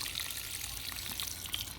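Water poured from a watering can onto bare-root roses planted in patio pots, a steady splashing trickle close by with no speech.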